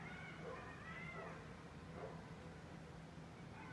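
Coyotes howling at night, heard as faint, distant, high-pitched wavering calls that rise and fall over a steady low background hum.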